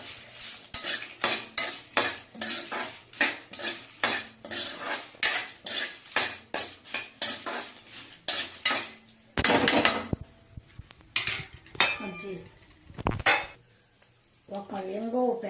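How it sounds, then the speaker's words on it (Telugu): A spoon stirring mustard, coriander and cumin seeds as they roast in a pan, a steady run of rhythmic scraping clinks, then a few louder knocks and scrapes near the end. "1 స్పూన్ ఆవాలు, 1 స్పూన్ ధనియాలు, 1 స్పూన్ జీలకర్ర ఇలా అన్నీ దాంట్లో వేసుకొని బాగా వేయించుకోవాలి."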